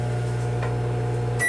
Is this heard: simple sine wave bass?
no